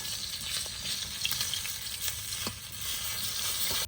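A hilsa fish head frying lightly in hot oil gives a steady close crackling sizzle, with a few faint clicks and stirs along the way.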